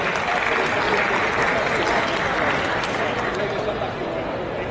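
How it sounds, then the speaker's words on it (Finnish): Loud, steady applause from a large crowd at a fitness expo bench press repetition championship, a dense wash of clapping that holds for several seconds. "Isot aplodit Jukalle."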